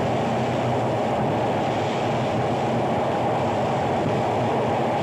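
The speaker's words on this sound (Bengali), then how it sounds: "নারায়ণগঞ্জ থেকে উড়াল রেল সেতু উপর দিয়ে ট্রেন যাচ্ছে" A train crosses an elevated rail bridge from Narayanganj with a steady, loud rumbling roar and a faint clatter, unbroken from start to finish, in strong wind.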